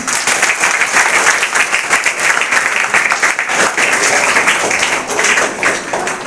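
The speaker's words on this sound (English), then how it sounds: "Let us welcome him with a huge round of applause, children" A school audience at Delhi Public School Asansol applauds loudly to welcome a guest actor, a dense, sustained wash of many hands clapping with no pauses.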